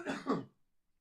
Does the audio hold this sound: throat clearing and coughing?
yes